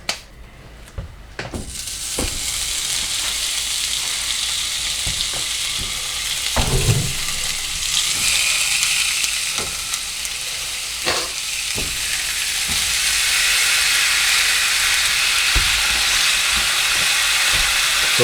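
Meat searing in a pan on a stove turned to high, a loud continuous sizzle with scattered pops and crackles that swells louder in the last few seconds, no talking.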